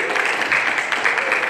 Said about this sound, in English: John Odell, give a big round of applause,